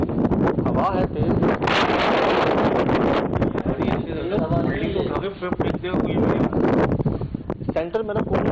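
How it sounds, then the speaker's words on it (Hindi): Strong wind blasts across the microphone in a steady roaring rumble, loud and continuous with gusty buffeting throughout, while people talk over it. "इतनी तेज हवा जो है इससे पहले कभी नहीं देखी हमने यार।"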